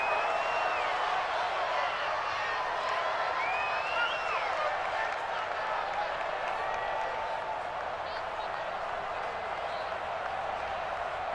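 Stadium crowd noise in a Madden football game ahead of a big third down, a steady, fairly distant roar with faint cheering and clapping. It stays even throughout with no clear peaks.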